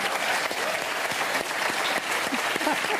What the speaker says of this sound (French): On les applaudit très très fort